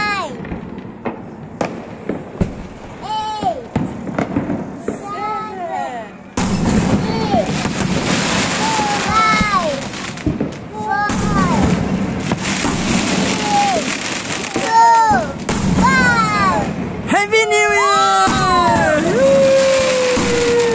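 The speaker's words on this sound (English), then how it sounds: "But you've been waiting to see all the fireworks, haven't you?" New Year fireworks at midnight over Mokokchung, with repeated whistling rockets and crackling bursts, some close and loud, others distant, under steady crowd noise and occasional voices.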